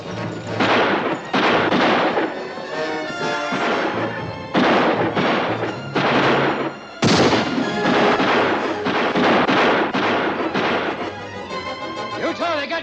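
Loud, booming gunfire in a western film, with repeated shots and crashing bursts coming in rapid clusters of near-continuous blasts over about thirteen seconds.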